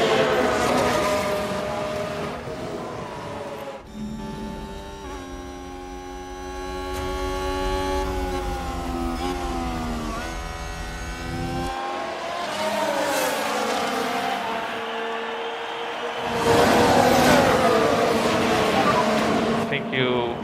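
Ferrari Formula 1 car in the F1 Manager 22 game at the Australian Grand Prix, loud high-pitched engine whine rising and falling through gear changes as cars pass, with other race cars and a commentator talking over it.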